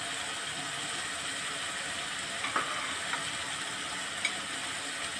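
Minced meat frying with tomatoes and spices in a pan for a keema and kachnar dish, a steady close sizzle with a few soft clicks of a spoon stirring through it, no talking.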